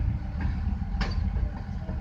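A long CSX freight train rolls past nearby with a continuous low rumble and rattling of wagons, and a sharp clank stands out midway.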